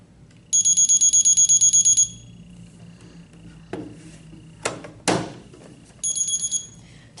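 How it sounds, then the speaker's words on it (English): A medication dispenser's test alarm beeps rapidly in a short burst, followed by clicks and handling noises, then a second shorter burst of beeps. "Now your unit's alarm will sound to ensure the alarm tone is working."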